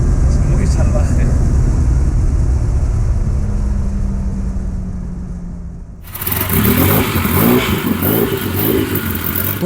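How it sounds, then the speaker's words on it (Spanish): Porsche 911 Turbo 930 accelerating hard, a loud sustained engine roar that fades slightly before a sharp gear change and renewed rising blare; close and powerful, with a voice speaking over parts of it. "quedaos con esta aceleración y con el sonido de este 911 Turbo 930"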